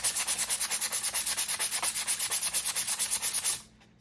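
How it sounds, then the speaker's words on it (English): Rhythmic back-and-forth strokes of 220-grit sandpaper rubbing a soft wood deck plank, about two dozen quick, even passes close up, stopping abruptly near the end. "So I'm going to start with a 220 sandpaper. This wood is really soft, so it sands easy."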